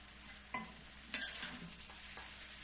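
Bitter gourd and small shrimp with potatoes being stirred in a frying pan, a faint sizzle under a few soft scraping clinks of the spoon against the pan.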